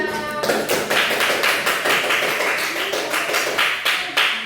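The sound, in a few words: class applauding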